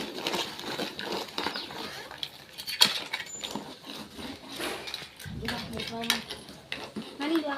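Crab gravy being stirred in a pan after ground fennel, cumin, pepper and garlic paste go in, giving soft scraping, clinks and wet patter in irregular bursts, fairly quiet, with a voice talking over parts of it.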